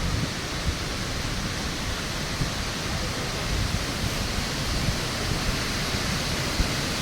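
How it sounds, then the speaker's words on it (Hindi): A broad, steady rush of falling water fills the space, loud and unbroken, like a waterfall heard from nearby. "ये इधर झरना बह रहा है"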